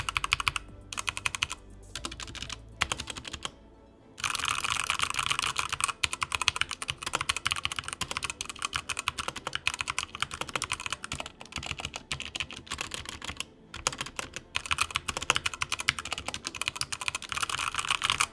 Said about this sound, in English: this keyboard's 53 bucks as of filming this video, and it sounds quite good. Take a listen.